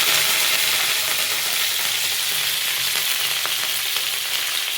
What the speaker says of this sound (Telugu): ఆవాలు జీలకర్ర వేసి ఇవి చిటపట్లు ఆడిస్తాము